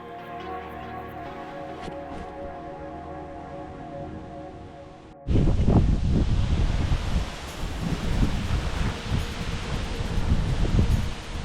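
Wind gusts buffet a microphone outdoors on a carp fishing trip in Bulgaria; after a quieter opening with a faint tonal hum, a loud, rough roar of wind suddenly hits and keeps surging and rumbling to the end.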